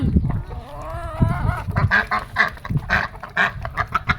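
Loud, close quacking and honking from a few ducks, repeated in short bursts over several seconds.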